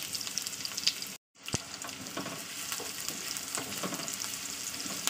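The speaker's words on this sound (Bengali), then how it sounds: "তো চলুন তেলটা গরম হয়ে গেলে আমি দিয়ে দিচ্ছি একটা বড় সাইজের পেঁয়াজ" Chopped onion, a large one, frying in hot oil in a pan, a steady crackling sizzle with stirring scrapes and one brief dropout, fairly quiet and with no talk.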